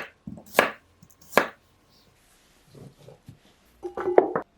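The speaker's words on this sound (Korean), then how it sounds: "당근은 먹기 좋은 크기로 잘라 냄비에 넣으시고요." A knife chops carrots into bite-sized pieces on a cutting board, with a few sharp, close strokes separated by pauses and a quick cluster of cuts at the end.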